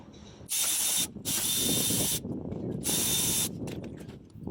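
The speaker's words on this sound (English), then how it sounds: "Then we're going to use a 13mm to take the caliper bolts off." A ratchet fitted with a 13mm socket clicks rapidly in three loud close bursts while removing brake caliper bolts, with short pauses and low handling noise between them.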